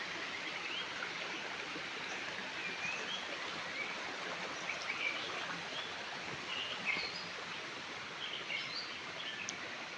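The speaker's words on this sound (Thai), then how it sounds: "นี่ก็เป็นบรรยากาศด้านล่างของน้ำตกเอราวัณนะครับ" Steady rushing water of a stream below Erawan waterfall in Phetchabun, a continuous broadband wash with no pauses and faint bird chirps scattered over it.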